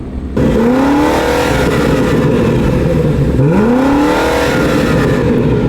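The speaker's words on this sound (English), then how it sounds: "Let's try the X6M. Let's see how it sounds." A BMW X6M SUV revs twice through its exhaust, each rev a loud, throaty rising sweep close by over a steady engine rumble.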